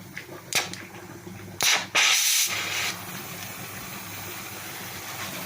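A gas generator cell with 40 plates in series and fan cooling hisses as it produces gas, with sharp bursts of venting over a steady low mechanical hum.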